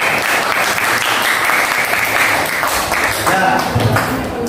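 A classroom of students claps together in sustained, dense applause lasting several seconds, with voices mixed in underneath.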